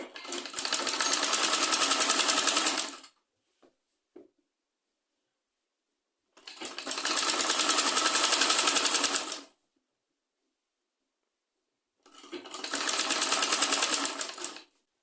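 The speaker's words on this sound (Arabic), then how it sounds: "صافي غادي نخيطوها عادي بحال هاد الشكل هذا، غنخيطها من 4 ديال الجهات" A sewing machine stitches the edges of a kitchen cover in three long, loud bursts of rapid mechanical whirring, separated by silent pauses while the fabric is turned, with no voices.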